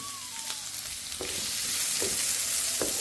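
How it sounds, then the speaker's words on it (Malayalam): Sliced onion and green chili sizzle in hot oil with mustard seeds, with a steady close frying hiss and a few stirring scrapes against the pan. "ഇതിലേക്ക് നമ്മൾ എടുത്തു വെച്ചിട്ടുള്ള ഒരു സവാളയും ഒരു പച്ചമുളകും കൂടെ ഞാൻ കട്ട് ചെയ്തെടുത്തിട്ടുണ്ട് അതിലേക്ക് ആഡ് ചെയ്യാം"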